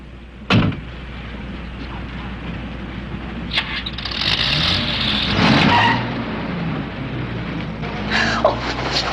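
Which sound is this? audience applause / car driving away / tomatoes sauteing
car driving away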